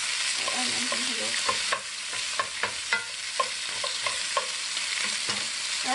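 Onions frying in a pan over high heat, a constant bright sizzle with a string of light scraping stirs and clicks layered on top.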